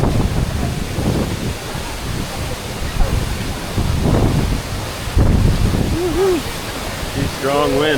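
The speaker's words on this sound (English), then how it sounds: "See strong wind." Strong wind near a waterfall on a misty mountain, a loud roaring rush with buffeting gusts hitting the microphone, a steady water roar beneath, and brief faint voices near the end.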